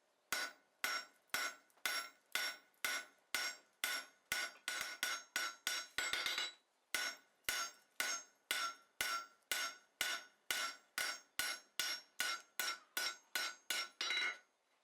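A blacksmith forging hot iron for a Suffolk latch with a cross peen hammer over a trough lands about thirty sharp, ringing blows, roughly two per second, with a brief quick flurry midway. The strikes are close and clear, with no speech.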